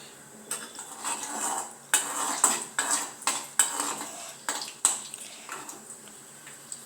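Mustard seeds, cumin, chana dal and dried red chillies with oil go into a pan on the stove for tempering, heard as a series of sharp metal clinks and scrapes of a spoon against cookware in an irregular rhythm.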